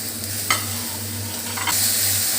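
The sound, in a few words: stirring tomato and green chilies in a pan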